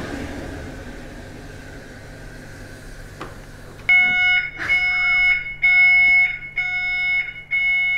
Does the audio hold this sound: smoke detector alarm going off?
yes